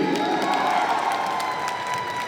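A crowd at a film trailer launch event claps steadily, a dense continuous patter of applause with some cheering mixed in, sustained throughout without a break.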